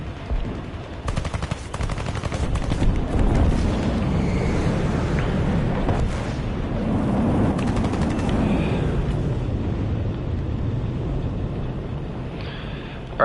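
Aircraft machine guns strafing in War Thunder, a long, dense rattling stream of fire over a constant engine drone, loud and continuous with no talking.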